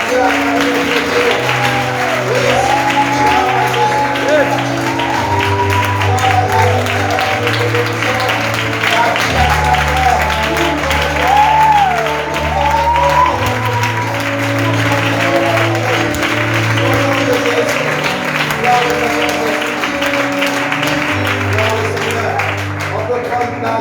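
A church congregation applauds to acclaim Jesus, sustained loud clapping from a large crowd, with music and voices under the applause throughout.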